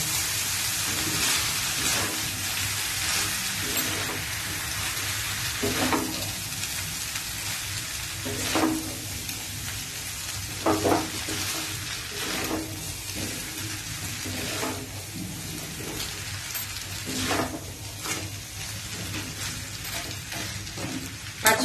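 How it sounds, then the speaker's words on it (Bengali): Chowmein tossed with vegetables in a hot frying pan gives a continuous sizzle, punctuated by regular scraping strokes of the spatula through the noodles. "এবার আস্তে আস্তে চাউমিনটার সাথে পুরো সবজিটাকে আমি মেশাবো"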